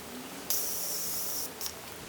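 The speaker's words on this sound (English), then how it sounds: "I'm going to take the Morphe Continuous Setting Spray, and I'm going to spray this all over my face" Morphe Continuous Setting Spray misted over a face: one long close hiss of about a second, then a shorter second spritz, soft and alone against quiet room noise.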